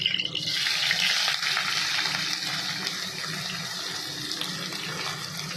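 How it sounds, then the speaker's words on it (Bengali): Chopped onion frying in a kadai after whole cumin and bay leaf go in: a loud hiss and sizzle burst at the start, settling into a steady crackling fry with no speech. "ফোড়নটা দেওয়ার পর আমি এবার কড়াতে দেব কোচানো পেঁয়াজ"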